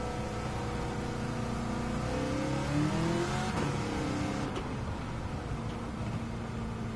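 In Gran Turismo, a 900-horsepower Dodge Hellcat accelerates hard, a steady loud engine drone rising in pitch through a couple of shifts and then holding a sustained roar.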